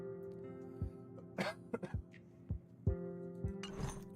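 Several short, sharp coughs spaced through a few seconds, fairly close, over a steady tonal background of game music; no speech.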